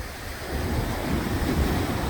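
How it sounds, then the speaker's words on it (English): Cold ocean water rushing and surging against the base of a retaining wall, a steady close wash of churning surf with wind noise on the microphone. "See how that water is rushing right there at that point, at the base of that retaining wall?"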